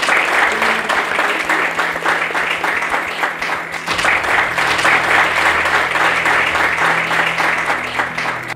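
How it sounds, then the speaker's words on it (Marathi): Sustained applause from a college audience welcoming student Nilesh Yadav, steady dense clapping that fills the room for several seconds with a brief swell midway, no speech over it. "सगळ्यांनी टाळ्या वाजवून त्याचं स्वागत करायचं आहे"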